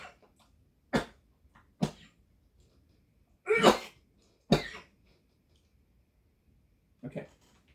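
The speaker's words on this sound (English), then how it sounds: "There's these little sneezing fits, I have these little, allergy things." Several separate sneezes burst out in a quiet room beside a piano, sharp and close, spaced unevenly with a doubled burst in the middle and one last softer sneeze after a pause.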